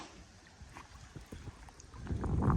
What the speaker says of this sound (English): Thank you for the gusty wind.